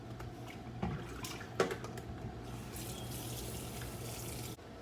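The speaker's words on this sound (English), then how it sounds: "I wash my rice and let it soak, so I'm gonna go ahead and just pour the water off of it now" Water from soaked rice running off into a kitchen sink, a steady close splashing stream with a couple of brief knocks, lasting nearly five seconds before stopping abruptly.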